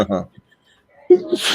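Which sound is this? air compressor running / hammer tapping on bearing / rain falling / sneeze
sneeze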